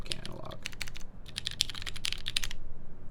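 Typing on a XENO keyboard with a half palm plate, 62 gram ergo clear Tribosys 3204 switches and GMK keycaps, a close, steady patter of crisp keystrokes with a faint voice underneath.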